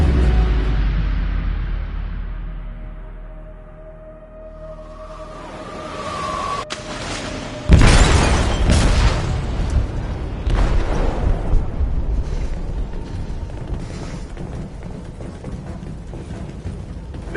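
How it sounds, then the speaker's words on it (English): Explosive detonating in a ship's hold in the video game Detroit: Become Human: a loud, close boom that breaks into a long rumbling roar with mechanical rattles and debris, sustained for many seconds without talk. "They detonated an explosive in the hold."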